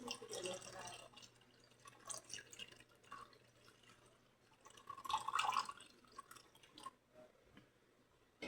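Water trickling and dripping in small splashes during a Shiva puja ritual, soft and close, with irregular drips and a brief fuller pour midway.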